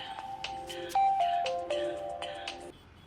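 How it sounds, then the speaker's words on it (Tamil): A phone rings with a repeating melodic ringtone of bright chiming notes, loud and close, playing alone for a few seconds in a movie scene. "ஃபோன் அடிக்குது பாரு."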